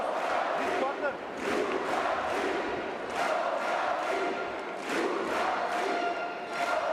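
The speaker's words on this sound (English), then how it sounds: "The crowd making noise." Crowd noise in a packed basketball arena during a EuroBasket qualifier between Bulgaria and Germany at the free-throw line, a steady roar with rhythmic swells and chant-like pulses under faint commentary.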